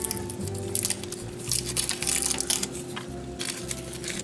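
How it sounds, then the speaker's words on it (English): Sugar jelly candies being sliced into small pieces for homemade Christmas candy, giving soft, squishy cutting sounds in quick bursts. The sounds are fairly quiet over a faint low hum. "slice the sugar jellies into little pieces for us"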